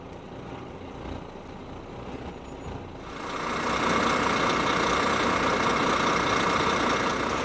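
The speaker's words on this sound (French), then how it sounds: "Je mets le moteur en marche." A truck tractor's diesel engine idles with a low rumble, then swells louder and rougher as the rig pulls forward to uncouple from its semi-trailer, ending in a continuous heavy drone.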